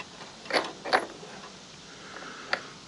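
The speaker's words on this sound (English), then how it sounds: "you should be able to reach in here and just pull this sprocket right out." A worn drive sprocket pulled out of a Polaris, heard as a couple of close metallic clinks and scrapes followed by a quieter rattle, with no talking.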